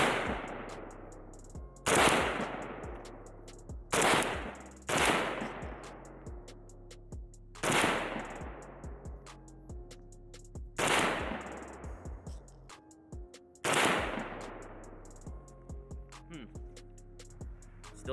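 A Pioneer Arms 556 sporter underfolder AK rifle fires six single shots outdoors, each a sharp loud crack about every two seconds with a ringing decay, and faint talk between them.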